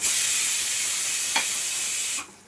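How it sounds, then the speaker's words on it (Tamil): Ginger garlic paste fries in a pan for homestyle mutton biryani with a loud, steady, close sizzle and a single stirring scrape, then cuts off abruptly at the end. "ஸோ இஞ்சி பூண்டு பேஸ்ட் போடும்போது நம்மளுக்கு நல்லா அடி பிடிக்க ஆரம்பிச்சிடும். ஸோ நல்லா கிளறி விட்டுகிட்டே இருக்கணும்"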